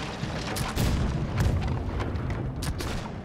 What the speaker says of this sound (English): Fire the rear cannons now